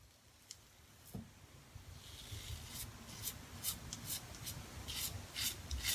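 A Gillette Sensor Excel cartridge razor scrapes across stubble in short repeated strokes, close and soft, with a faint rasping texture and no talking.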